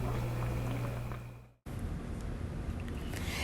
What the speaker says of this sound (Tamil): எப்படி தலைன்னு கொதிக்குது பார்த்தீங்களா?